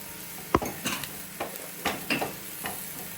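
Vegetables frying in coconut oil with salt in a pan, with a soft sizzle beneath a few distinct clinks and scrapes of a utensil stirring against the metal, close and brief with no talking.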